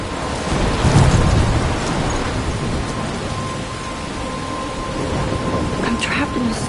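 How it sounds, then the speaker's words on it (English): Thunderstorm with rain in the video game Life is Strange: a steady loud downpour hiss with rolling thunder rumbling early, continuing alone without talk. "I'm trapped in a storm?"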